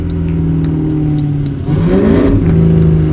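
A 650-horsepower Cadillac CTS-V on a mountain touge road, its engine humming steadily then surging into a loud, close rev with rising pitch partway through, no talking.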